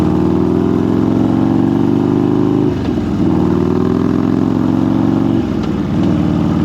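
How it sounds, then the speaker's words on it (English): A loud motorcycle engine roars steadily, briefly dipping twice as it shifts gears, then pulling again at a constant drone. "I like the sound of it going down here, shifting gears."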